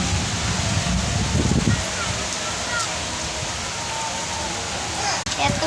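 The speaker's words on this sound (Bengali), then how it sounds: "এত পরিমাণ বৃষ্টি হচ্ছে" Heavy rain pours down steadily outside a balcony, a continuous hissing wash of water with occasional louder splashes and a brief disturbance near the end.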